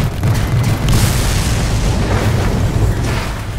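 Heavy artillery bombardment pounding a giant Titan in the Attack on Titan 2 video game, a dense, continuous low rumble of booming cannon blasts close and loud with no pauses.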